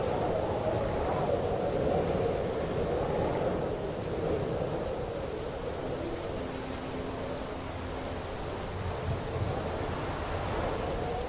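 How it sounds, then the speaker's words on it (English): Wind blows through the medieval outdoor world of Kingdom Come: Deliverance II, a steady, broad rushing roar with slow gusty swells and low rumble, continuous and fairly loud. "Luckily it's so windy so they cannot hear me."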